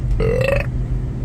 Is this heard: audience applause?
no